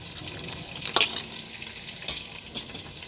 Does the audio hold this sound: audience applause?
no